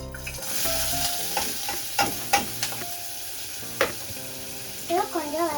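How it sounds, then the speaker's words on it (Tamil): Chopped onion, garlic and ginger sizzle in a pan as a vegetable soup base, with a steady frying hiss broken by several scraping stirs of a spoon, close and clear, with no one speaking. "கொஞ்சம் வதக்கிக்கோங்க."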